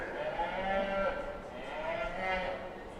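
A cow lows in two drawn-out moos at a Shorthorn junior breeding heifer show at the Colorado State Fair, the calls fairly close and clear over steady arena murmur and ambient noise.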